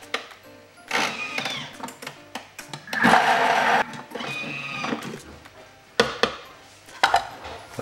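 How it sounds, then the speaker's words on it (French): A Thermomix TM5 blends vegetables and parsley at speed 7 for a vegetable stock base, in loud bursts of whirring and chopping broken by short pauses and clattering knocks. "et je mixe le tout 10 secondes"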